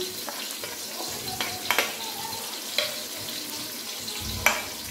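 Onion, curry leaves and garam masala fry in a pan for chicken yakhni pulao with a steady close sizzle, while a utensil stirs and scrapes now and then over it, and no one speaks.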